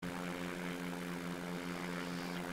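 A light aircraft's propeller engine drones steadily in flight at about 1,000 feet, a loud, even hum with strong tonal harmonics and no break.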